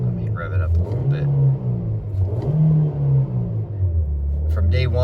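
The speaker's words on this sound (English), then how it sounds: "let me rev it up a little bit" A 2025 Nissan Versa S with a manual transmission has its engine revved at idle, the low rumble swelling and falling in a few close, loud pulses while someone talks over it.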